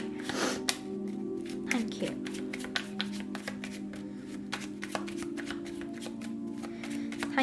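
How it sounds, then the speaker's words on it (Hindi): Tarot cards are shuffled and drawn during a reading, producing a rapid run of crisp riffling taps and flicks close to the mic over a steady low hum. "थोड़ी सी और कार्ड्स लेंगे हम आपके लिए।"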